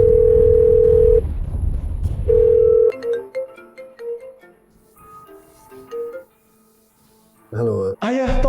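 A telephone dial tone while calling the boss: a steady loud tone sounding twice, followed by quieter melodic beeps and then a brief warbling burst at the end.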